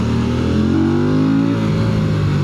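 A 2026 Norton Atlas 585 cc motorcycle engine revs up close and loud, its tone climbing smoothly before settling into a steady drone.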